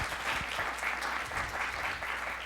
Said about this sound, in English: Please, a big round of applause for Angela for putting this together.